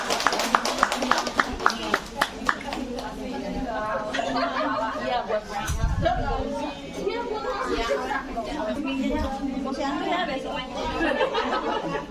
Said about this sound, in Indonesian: boleh berikan tepuk tangannya Bapak Ibu.